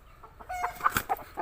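Aseel rooster giving a short series of clucks and throaty calls, close and fairly quiet, lasting about a second and a half.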